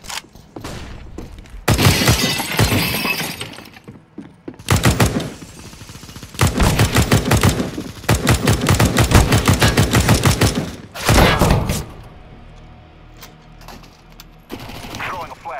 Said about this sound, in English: Throwing a flashbang. Throwing flashbang.